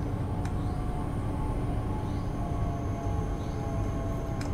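High-speed train driven in Train Sim World 2 on the Köln Schnellfahrstrecke, a steady dense rumble with constant running hum and faint tonal whine, continuous and fairly loud throughout with no talk.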